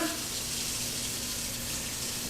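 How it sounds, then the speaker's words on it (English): Warm water runs steadily from a sink tap in a continuous close-up rush, broadband and even throughout with no talking. "turn on the water. And I want to make it a little warm."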